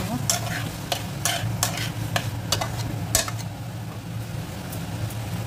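Boiled potato stirred through tomato and capsicum in a pan for pav bhaji, with a steady sizzle under repeated sharp scraping strokes of a spoon against the pan, close and moderately loud, no talking.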